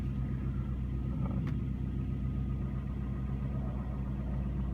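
A 1998 Ford Contour 2.0L engine idling with the air cleaner removed gives a steady, fairly quiet low rumble with an even hum, plus one brief click partway through.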